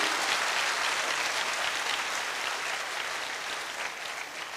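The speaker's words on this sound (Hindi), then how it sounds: "सो उनके लिए एक हाथ ताली हो जाए" Dense audience applause at a business gathering, a sustained, even roar of many hands clapping that fades slightly toward the end.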